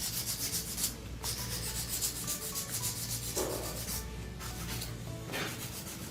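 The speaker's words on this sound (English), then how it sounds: "Right now, I'm just doing some hand filing" A hand file scrapes back and forth over long coffin-shaped acrylic nail tips in a nail salon, a quiet, close, rhythmic rasp in repeated strokes with brief pauses, under a low steady background hum.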